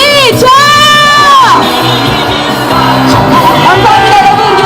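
A street protest crowd cheers and whoops loudly during an impeachment march, with sustained shouting and yelling that swells, then stays dense and close throughout.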